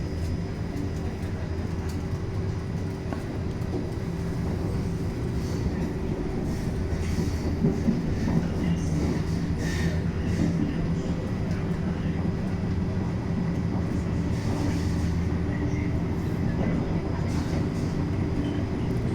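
Steady low rumble of a train rolling on rails in Rome between Roma Termini and Roma Tiburtina, heard from inside the carriage, with continuous broadband noise and faint clatter throughout.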